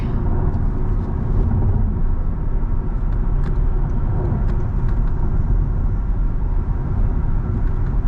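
A 2025 Toyota Camry Hybrid cruises on a highway at around 100, producing a steady, loud cabin rumble of road and tyre noise with faint ticks and no talking.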